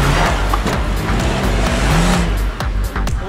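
Loud racing car engine roars and revs hard as it launches, with broadband motor noise and tire sounds throughout, close and continuous, with no speech.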